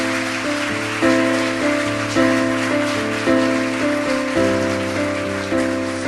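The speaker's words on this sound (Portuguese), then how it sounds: "Pode aplaudir o Senhor." A church congregation applauds, a crackling, rain-like patter of hands heard beneath sustained keyboard chords that shift every second or so.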